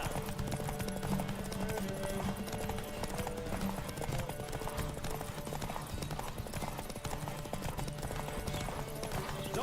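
Horse hooves galloping in The Witcher 3, a fast steady clip-clop rhythm running continuously and loudly for the whole stretch, with game ambience and faint voices mixed in.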